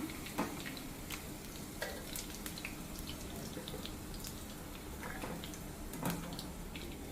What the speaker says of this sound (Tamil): இப்படியே எல்லா வெண்டைக்காயும் ஃப்ரை பண்ணி எடுத்துக்கோங்க